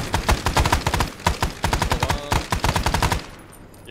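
Sustained automatic gunfire at enemy soldiers in Arma 3, dense rapid bursts of shots with brief pauses, loud and close, cutting off near the end into a quieter tail.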